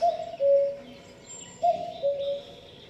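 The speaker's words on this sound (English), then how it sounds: "Good night, you foolish bird." A bird gives a few soft, tonal calls in a radio play of Noel Coward's Blithe Spirit, two drawn-out hooting notes repeated twice with a short gap, moderately loud and heard alone.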